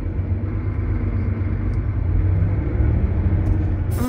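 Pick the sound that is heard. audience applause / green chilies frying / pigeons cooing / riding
riding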